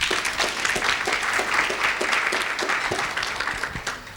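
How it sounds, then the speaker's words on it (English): A room of finance interns at a summit applauding themselves, a brisk, fairly loud patter of clapping from a sizeable audience with individual sharp claps audible, holding steady for about four seconds before starting to thin out. "colleagues, give yourself a round of applause"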